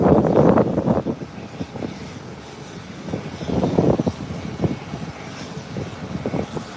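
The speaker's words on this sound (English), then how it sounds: "The Airbus 321 is being pushed back. No, it's a Boeing 737." A Boeing 737 airliner being pushed back at the gate makes an uneven rumble of engine and ground noise, rising and falling in short surges at moderate loudness.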